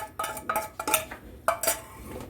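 Spoon scraping and clinking inside a pot while yayla soup is stirred after mint goes in, a handful of short close strokes at an uneven rhythm with no talk.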